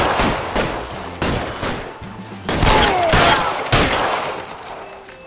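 Gunfire during a shootout in LA Noire, several loud close bursts and volleys of shots in quick succession, harsh and reverberant, with no talking.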